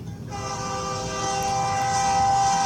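A train horn sound effect from an air horn app plays as a steady, sustained multi-tone blast that holds at even volume throughout, close and alone.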